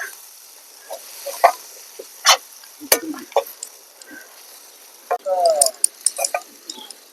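Cabbage cooks in oil with a faint sizzle beneath sporadic sharp clicks and scrapes of utensils, close by and uneven, with brief bursts of louder clatter.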